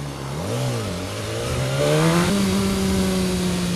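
A BMW S1000RR motorcycle engine revs and shifts pitch up and down as it pulls away through traffic, loud and close, with steady road noise underneath.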